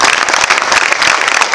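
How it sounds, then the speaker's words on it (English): A crowd at a Bangalore, India enterprise mobility panel bursts into loud applause, close, dense clapping with sharp individual claps standing out. "give the folks here in India, here in Bangalore, a big round of applause for putting this on"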